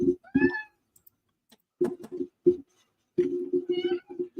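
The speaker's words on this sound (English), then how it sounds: "Sorry if you hear a cat in the background" A cat meows several times in short, separate bursts, close by, with quiet gaps between calls.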